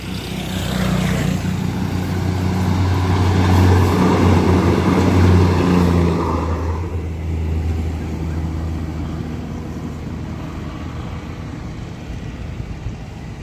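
A Thai passenger train approaches with its diesel engine accelerating, a loud low rumble and whine building to a peak then easing into a steady drone.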